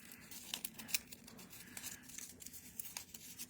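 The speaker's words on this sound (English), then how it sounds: "We're just gonna crumple my paper." Sheet of paper crumpled tightly by hand for mixed-media craft work, a close, continuous crackling and crinkling with sharp rustling bursts and no voices.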